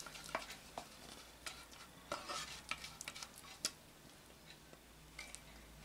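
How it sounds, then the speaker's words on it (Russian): A utensil stirs cream with melted butter in a pot for a Fraisier cake filling. It makes faint, sparse scrapes and light clinks at an irregular pace, close and quiet with no talking. "И также перемешиваю, пока масло растворится."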